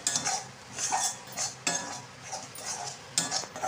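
A spoon stirs a cooking dish in a pan, making scraping and clinking strokes at an uneven pace, close and fairly quiet, with no talking.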